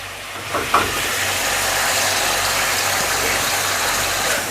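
Onions dropped into frying chicken karahi, a brief clatter followed by a loud, continuous hiss of sizzling oil, close up with no voices.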